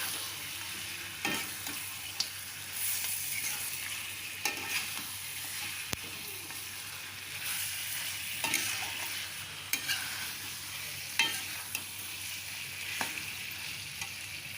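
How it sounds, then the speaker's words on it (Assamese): Whole spices sizzle softly and steadily in a pan as the base of a meat curry: bay leaf, two cloves, two cinnamon sticks and a cardamom pod. Occasional scrapes and stirring clicks punctuate the low frying hiss. "এইটো মই এতিয়া ভাল কৰি ভাজিম।"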